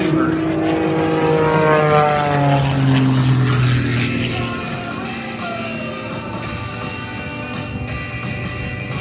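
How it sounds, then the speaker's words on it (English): A Ghost Rider aerobatic airplane at an airshow climbs into a vertical maneuver, its loud propeller engine droning steadily with rising and falling pitch, then easing slightly as it pulls away. "as Nathan continues and flies the Ghost Rider into the vertical for his next maneuver"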